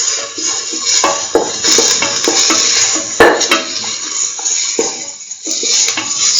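A spoon scrapes and clatters against a pan while chili powder and lentil rice are sautéed and mixed for curried lentil egg rice, with a steady, close sizzle underneath the busy stirring.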